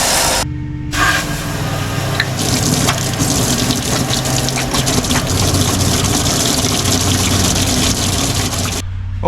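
A garden hose fills the live well of a Tracker bass boat, a steady loud gush and spray of running water that carries on without a break, with a low pump hum beneath it and no talking.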